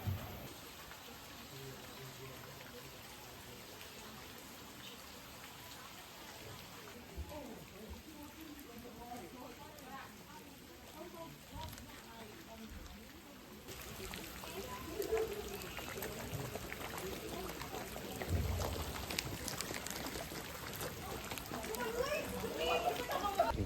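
Steady rain patters in the background in Hue, Vietnam, growing heavier toward the end, with voices murmuring faintly underneath.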